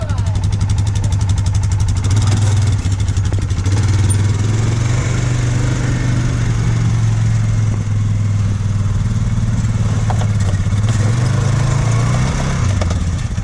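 A Can-Am 570SP off-road vehicle on 33-inch tires with a Highlifter bracket lift idles and creeps slowly in reverse, its steady low engine drone running loud and close throughout while people talk nearby.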